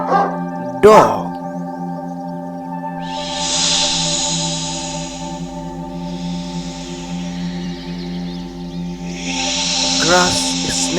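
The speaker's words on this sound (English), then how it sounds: "Grass snake." A grass snake gives long, breathy hisses that swell and fade in separate bursts over a steady low musical backing, with a brief sharp knock near the start.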